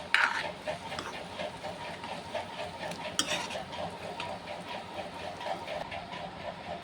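Shev is stirred into a milk curry in a pan: a spoon scrapes and swirls rhythmically against the metal over a soft bubbling simmer, close and moderately quiet, with a few louder clinks.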